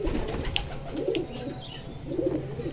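Pigeons coo in a loft, soft repeated throaty coos in a few low bursts close by, with faint chirps and a busy murmur of other birds in the background.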